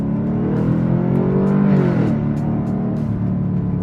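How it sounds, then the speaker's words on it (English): A supercharged Chevrolet Camaro ZL1 engine revs hard and steadily, a loud sustained roar with a supercharger whine rising and dipping near the middle, close by. "supercharger noise is always good"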